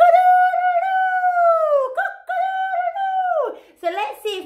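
A cockerel crows loudly and close, two long drawn-out calls one after another, followed by a brief rough squawk at the end.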